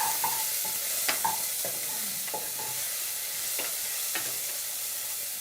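Onions and tomatoes fry together in a pan, a continuous sizzle broken by several sharp clinks and scrapes of stirring, close and fairly loud with no talking.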